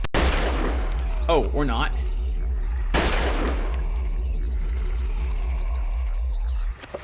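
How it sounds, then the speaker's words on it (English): Gunfire in the video game Eternal Darkness: a rapid, regular burst of shots pounding steadily throughout, with two sharp louder blasts, and a brief spoken remark over it. "We'll have to shoot it to death."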